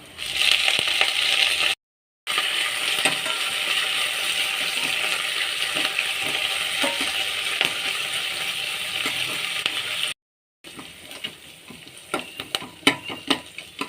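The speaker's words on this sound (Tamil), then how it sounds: "கீரை நல்லா வதங்கட்டும்." Drumstick leaves sauté in a pan with a loud, continuous sizzle and crackle, broken by two brief gaps, with stirring scrapes and taps toward the end.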